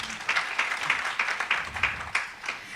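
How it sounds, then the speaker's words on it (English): A conference audience at a bank's inspirational event gives a modest, fairly close round of applause with distinct rhythmic claps standing out from the crowd. "Another round of applause for her"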